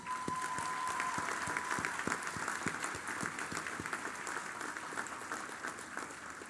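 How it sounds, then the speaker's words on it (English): Audience applause at a medical school graduation pledge ceremony, steady and moderately distant, with individual claps standing out rhythmically from the broader crowd and a brief tone at the start. "Let's clap hands to them."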